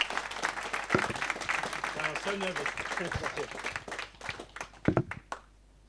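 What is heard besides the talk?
audience applause after a talk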